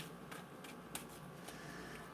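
Tarot cards being shuffled by hand, a soft continuous riffling with a few sharper flicks, steady and close with no talking.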